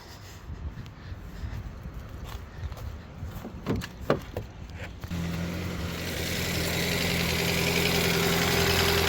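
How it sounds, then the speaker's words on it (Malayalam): A car engine starts after a radiator repair: a few clicks and cranking bursts, then a catch at about five seconds into a steady, fairly loud idle hum that stays even to the end. "ഇനി ഒന്ന് വണ്ടി ഒന്ന് ഷാർട്ടാക്കി നോക്കട്ടെ"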